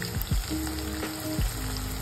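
Garlic and onion sizzling steadily in hot oil for a Maharashtrian tur dal onion curry, a close, continuous frying hiss with a few brief stirring scrapes and no voices.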